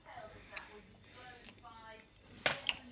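A spoon clinks against a bowl while a health tonic is stirred, a few faint light clinks spaced apart, the last two sharper and closer together near the end, amid quiet breathy background.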